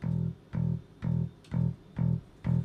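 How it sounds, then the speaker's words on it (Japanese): A synthesized bass tone from a music-production demo plays as six even, sustained low notes about half a second apart, loud and close, with no talking. "それで、まあ、ベースの音ですと、"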